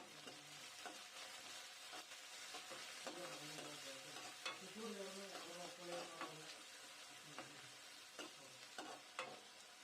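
Spring onions and spices fry in a pan for biryani rice, giving a steady, dense sizzle with frequent scraping stirs and occasional sharper crackles throughout, with no voices over it.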